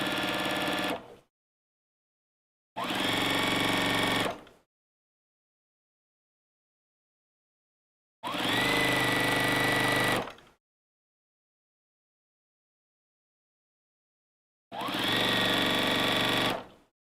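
A sewing machine runs while pillowcases are made, its motor whirring in four separate bursts of one to two seconds, each followed by complete silence; the machine sounds close and clear.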